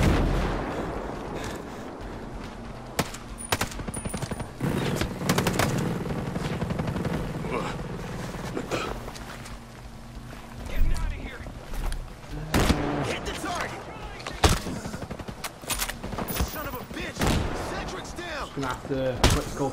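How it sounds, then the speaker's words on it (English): In the video game Ghost Recon Breakpoint, mortar rounds and gunfire boom and crack repeatedly at varied distances, with heavy thuds and bursts under a man's ongoing speech. "And the mortar coming."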